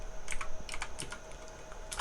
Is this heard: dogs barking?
no